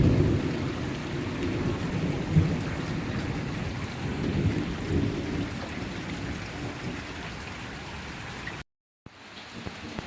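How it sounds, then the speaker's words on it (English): Heavy rain pours steadily with low rolling thunder beneath it in an outdoor storm, a dense, loud wash of sound that continues throughout with a brief dropout near the end. "The rain has just kind of slowed down a little bit, not quite gushing so hard"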